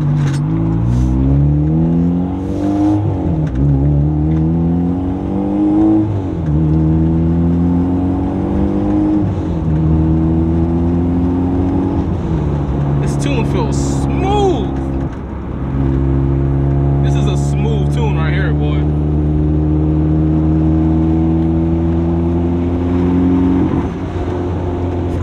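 A turbocharged Honda Civic Si accelerates hard through several gears on a highway, pitch climbing and dropping at each shift, with a voice talking briefly over it.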